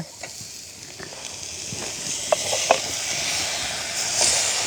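Fish added to golden fried onions and curry leaves in a clay pot for a village-style Sri Lankan otti fish curry. A steady hissing sizzle runs throughout, broken by a few light clicks and scrapes of stirring.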